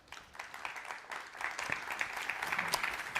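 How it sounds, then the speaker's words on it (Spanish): Audience applause for panel speakers at a microelectronics and silicon industry forum in Valencia, a steady wash of many hands clapping that builds slightly louder over a few seconds, heard from within the room. "Un aplauso para ellos."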